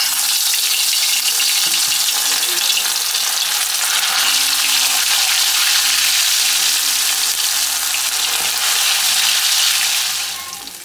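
Ginger garlic paste frying in hot oil in a clay pot for a matka baigan salan, a loud, close, continuous sizzle with faint stirring underneath that fades slightly at the very end; no one speaks.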